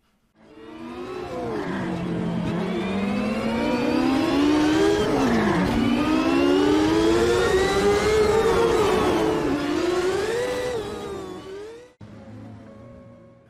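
A race car in a sim racing game launches off the line with wheelspin, its engine note climbing steadily in pitch through the gears with loud, sustained revving and whine, then cutting off abruptly near the end.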